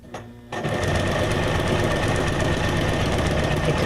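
Sewing machine running straight stitches on junk journal ephemera, starting after a short pause and then whirring and chattering rapidly and steadily, close and loud, with no talk over it.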